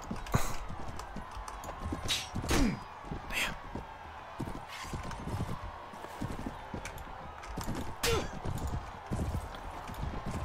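Horse hooves clip-clop at a steady trotting rhythm in a medieval tournament in Mount & Blade: Warband, with occasional metallic clangs and a faint voice beneath.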